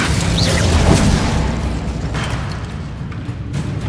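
Incendio fire spell cast in the video game Hogwarts Legacy, a loud booming burst at the start that settles into a rumbling, crackling roar fading over a few seconds.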